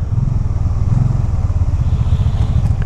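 A 2012 Can-Am RT-S Spyder three-wheeled motorcycle on the road, its engine a loud, close, throbbing rumble with pulsing revs as it shifts down, and no one speaking.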